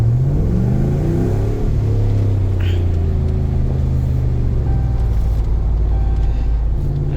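A truck engine fitted with JBA shorty headers rumbles loud and close, revving up with rising tones, then settling into a deep, steady idle for the rest of the stretch.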